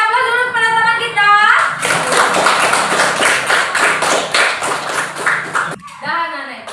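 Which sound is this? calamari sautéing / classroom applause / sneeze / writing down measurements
classroom applause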